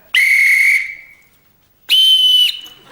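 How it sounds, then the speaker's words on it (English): Two loud, sharp blasts from a standard-issue council whistle, each lasting just over half a second, separated by a short pause in otherwise quiet surroundings. "Just learn to blow the whistle for the time being"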